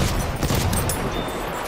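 Dense gunfire in the video game Battlefield, a continuous loud rattle of shots with no clear gaps between them.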